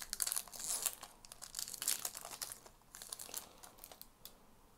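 A foil pack of 2018 Series 1 baseball cards is torn open and handled, producing close, crisp crinkling and tearing in quick bursts that fade to softer rustling. No one speaks.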